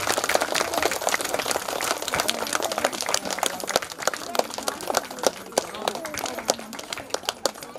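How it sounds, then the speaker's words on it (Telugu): A crowd at a temple consecration ceremony claps vigorously, sharp dense hand claps ringing out nearby with voices mixed in, thinning to scattered louder claps toward the end. "ప్రతి ఒక్కరు కూడా గట్టిగా చప్పట్లతో అష్టధ్వనులను ధ్వనించండి"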